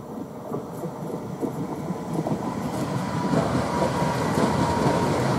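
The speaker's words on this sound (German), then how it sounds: "Und hier hören wir jetzt den zweiten Regio kommen." A modernized regional train on the Brenner northern ramp rumbles steadily nearer, its low rolling noise growing gradually louder over several seconds, with no voices.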